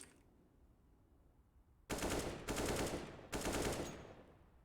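In a shooter video game, a gun fires three rapid automatic bursts in close succession after a quiet start, each a dense, loud clatter of shots, with no voices.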